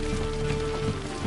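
Steady rain falls in the video game The Witcher 3, a dense, even hiss of drops on surfaces with a low continuous ambient hum underneath.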